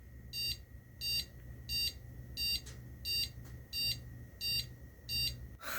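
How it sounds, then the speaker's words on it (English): An AMI BIOS power-on self-test beep code from a rebuilt PC-Partner XL 386SX motherboard: a series of eight evenly spaced, shrill electronic beeps at a steady rhythm, fairly loud and close, with a low hum beneath and no talking. "that beep code you just heard, the 1 long and then 8 short, for AMI BIOS"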